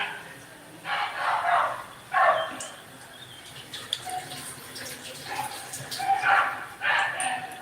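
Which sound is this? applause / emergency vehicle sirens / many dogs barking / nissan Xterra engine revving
many dogs barking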